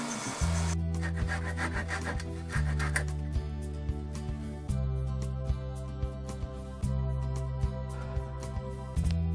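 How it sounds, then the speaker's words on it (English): A wooden dowel spun in a drill grinds against a running belt sander in repeated passes, a steady motor hum broken by rough, scratchy sanding bursts. "chucking it in my drill and then running it against the belt sander"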